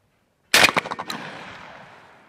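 A single loud blast from a Beretta A400 Xcel Multi Target 12 gauge semi-auto shotgun, fired from the hip on a target range, followed by a rattling echo that trails away.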